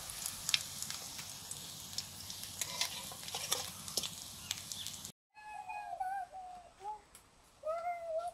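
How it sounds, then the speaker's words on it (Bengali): Large cabbage fritters fry in oil in a home wok, a close crackling sizzle for about five seconds before cutting to quieter background with bird chirps. "বিগ সাইজ বড়া, বাঁধাকপির বড়াগুলো পরপর ভেজে নিচ্ছি"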